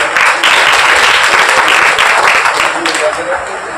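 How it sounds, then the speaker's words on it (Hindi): A large crowd at a committee event applauds loudly and continuously, dense clapping close by and filling the few seconds with no break. "2000 तालियां बजाएं"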